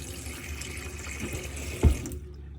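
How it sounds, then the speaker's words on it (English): Water runs from the tap of a Rapido 890F motorhome, fed by the onboard water pump. A steady, close hiss of flowing water with a brief splash near the end, then it cuts off abruptly. "once you turn the water pump on, you should then have good pressure coming through the tap"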